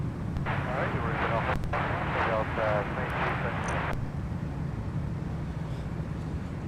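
A jet airliner's engines roar steadily at Minneapolis–Saint Paul airport, a loud, continuous low rumble with voices talking over it for the first few seconds.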